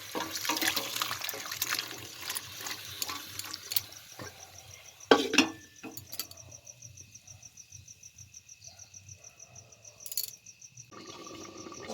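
Liquid pours into a cooking pot in a village kitchen, a soft trickling splash that runs under steady cricket chirps and outdoor night ambience, with a few louder knocks of the vessel midway.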